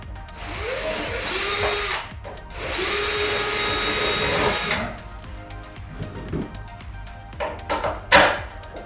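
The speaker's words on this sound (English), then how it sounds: "run the drill back and forth through it a few times, clear it out a bit" A power drill clearing out a bolt hole on a track bike frame whirs in two long close bursts, its pitch winding up and down, followed by scraping and clunking of tools.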